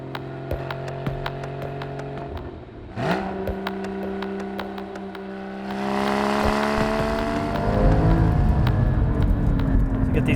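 A high-performance car driven hard on winding back roads, engine note rising and falling through gear changes with a strong surge of revs midway, tire and wind roar building as it accelerates, heard from inside the cabin.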